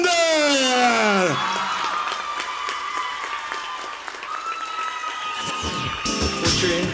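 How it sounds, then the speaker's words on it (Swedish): Audience applause and cheers for the newly crowned Miss Universe Sweden 2017 at the Mr & Miss Sweden final, a loud sustained wash of clapping with whoops, while a host's voice and music rise over it at the start. "Stora applåd för Frida!"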